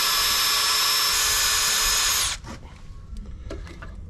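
A power drill whines loudly and steadily into a steel rung stud, then cuts off, leaving quieter scraping and clicks.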